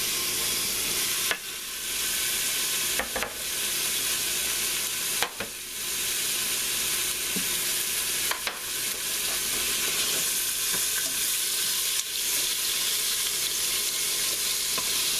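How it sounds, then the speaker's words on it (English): Beef tips seasoned with salt and pepper brown in a pressure cooker with a loud, steady sizzle, interrupted every few seconds by sharp stirring scrapes and clacks, with no talking. "Now I'm going to let my meat brown up"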